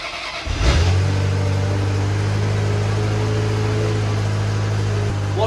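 A Ferrari 355 engine being run up after an oil check, catching with a sharp start and then settling into a loud, steady, close idle with a strong low drone and no talk over it.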